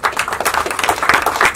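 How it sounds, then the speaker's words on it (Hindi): An audience applauds at a film trailer and music launch event, a dense burst of clapping filling the room continuously and loudly without any speech. "जोरदार तालियां"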